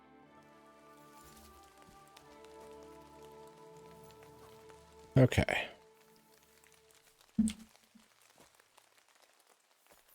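Steady rain patters through a wet forest in the video game Kingdom Come 2, an even hiss continuing throughout, broken by two short louder thumps; a person speaks briefly.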